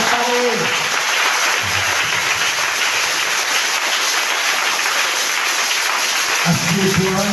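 A congregation in a church applauding steadily, loud sustained clapping with voices briefly audible at the start and end.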